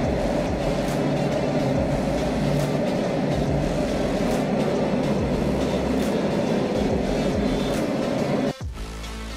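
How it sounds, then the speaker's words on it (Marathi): A car shuttle train carrying cars rolls steadily with a loud continuous rumble and faint rhythmic rail clatter, ending in a brief jolt near the close. "एखादी ट्रेन कार्सला घेऊन, गाड्यांना घेऊन खाली जाते"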